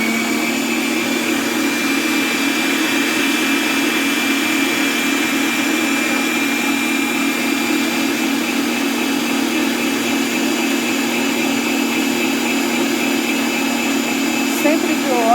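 An electric mixer whips chantilly cream in a bowl, a loud, steady whirring motor hum that holds at an even pitch from start to finish, with no talk over it.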